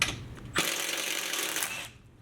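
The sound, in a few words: removing skid plate screws with a screwdriver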